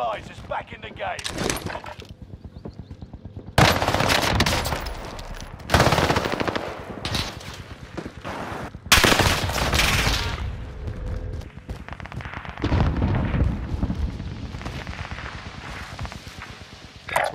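Video game gunfire in a multiplayer shooter: loud bursts of automatic weapon fire in repeated clusters, with a few quieter gaps, while a player talks over the action.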